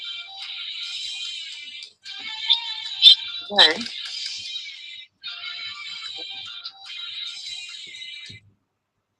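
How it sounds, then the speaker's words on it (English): A mobile phone rings with a repeating electronic tone in several bursts separated by short gaps, fairly close, while someone speaks briefly over it before the ringing stops. "That's my phone."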